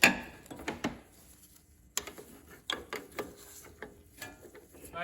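A hand ratchet tightens a part on a Honda TRX350 ATV during starter clutch replacement: close, sharp clicking in short, uneven bursts with brief pauses between strokes.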